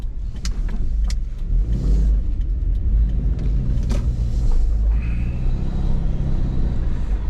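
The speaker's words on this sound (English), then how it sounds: "Noisy on the engine and the wind noise." Steady low engine rumble inside a moving 2015 Subaru Forester with continuous broadband wind noise, loud and constant throughout.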